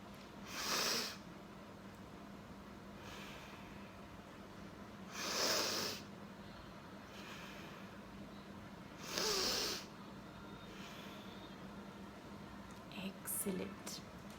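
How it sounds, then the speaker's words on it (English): Three slow, breathy exhales spaced about four seconds apart during a calm seated exercise, hands resting on knees, each a soft airy rush standing out over quiet room tone. "I want you to breathe in slowly and breathe out."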